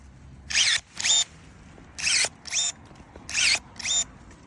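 INGCO CSSLI20308 cordless pruning shears cutting through thicker branches: six short motorized snips in pairs, each a whirring squeal of the blade closing, close and fairly loud against a quiet outdoor background.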